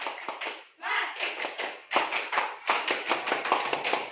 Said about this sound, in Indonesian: mari kita lakukan tepuk semangat terlebih dahulu